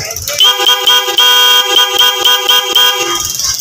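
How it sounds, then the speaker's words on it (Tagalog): A car horn honks in a series of short, loud blasts with brief gaps between them, close by, during testing of a loose wiring connection. "Busina natin."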